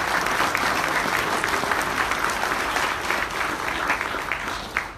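Audience at a National Venturing and Sea Scout reception applauds steadily for about five seconds, a dense, continuous clapping from a sizable crowd with no talk over it.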